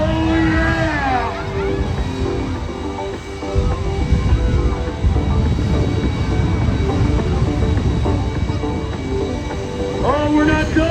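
A jet-powered vehicle roars at a Monster X Tour monster truck show in Granite City, Illinois. The engine noise is loud and continuous, swells and rumbles throughout, and rises in pitch near the start and again at the end.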